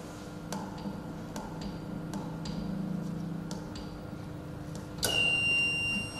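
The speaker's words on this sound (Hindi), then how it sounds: "जब भी फीडर ट्रिप होगा इस तरह का अलार्म आएगा।" A 33 kV feeder auto-trip alarm sounds from a substation relay panel: a series of evenly spaced short beeps over a steady hum, then a louder sustained high tone near the end, with no voices.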